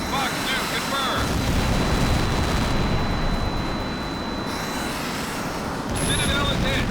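A loud, dense blast roars through the H.A.W.X. combat game as the Citadel aircraft is struck, a sustained rumble lasting several seconds beneath jet noise and radio-style voices.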